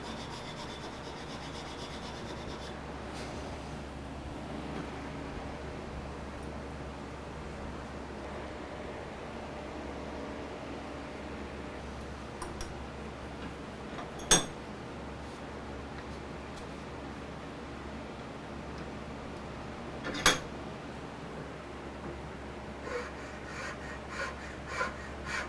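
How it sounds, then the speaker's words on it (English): Wooden panels clamped in a vise being filed, producing a quiet, continuous rasping and rubbing texture with a few sharp knocks scattered throughout. "After filing the panels, they were finally slim enough to properly attach to the hinges"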